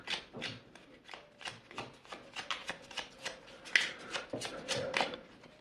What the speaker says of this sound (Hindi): शफल कर लेते हैं जल्दी से।